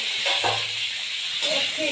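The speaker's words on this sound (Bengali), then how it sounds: "তো এখানে রান্না চলছে।" Food sizzling and being stirred in a pan in a home kitchen while egg rolls are made, a steady close frying hiss with brief scraping stirs and faint voices.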